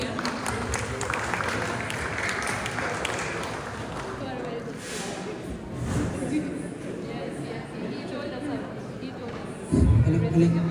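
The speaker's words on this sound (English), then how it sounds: "Give him a big round of applause." Crowd applause at a public event for the mayor of Zira, a steady wash of clapping mixed with crowd chatter, moderately loud, ending with a brief louder burst near the end.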